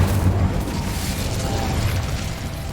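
An Incendio fire spell cast in the video game Hogwarts Legacy roars out as a loud burst with a deep rumble, settling into a sustained fiery whoosh.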